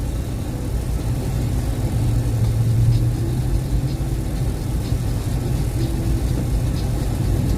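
Jacked-up BMW car driving past in a hurry on an Ohio road, steady mid-range engine rumble with a slight swell as it passes, heard from inside a truck cab, no talking.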